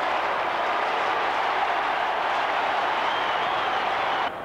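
A stadium crowd roars at a 1993 Australian football match between Collingwood and Footscray, a dense, steady wash of cheering that holds loud throughout and drops off abruptly at the very end.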